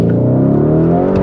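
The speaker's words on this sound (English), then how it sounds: "Now this has the Akrapovic exhaust." A Lamborghini Urus Performante with an Akrapovic exhaust runs a loud, deep engine note with a rising rev, close and alone for about a second.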